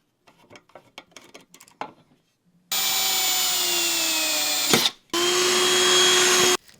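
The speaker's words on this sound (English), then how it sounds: "I'm actually going to use the exact same process that I just did to mark and drill the next 2 holes for the next 2 screws" Small clicks and handling taps come first, then a power drill bores screw holes in a pedalboard, two loud, close, sustained whirring bursts separated by a brief pause, with no talking.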